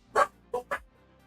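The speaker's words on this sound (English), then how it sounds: "Oh, doggos are barking." Excited dogs bark indoors in the background, one strong bark followed by two quicker ones, then quiet.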